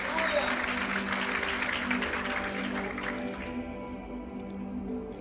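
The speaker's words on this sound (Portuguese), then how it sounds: "Se quiser dar força para o nosso irmão e aplaude junto" A church congregation claps at an evangelical preaching service, a fairly soft, diffuse patter that fades after a few seconds, with faint voices underneath.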